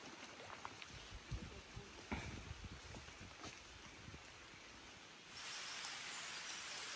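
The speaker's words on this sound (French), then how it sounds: "il pleut" Steady rain falls outdoors as a soft, continuous hiss with scattered light taps, growing denser and louder toward the end, with no talk over it.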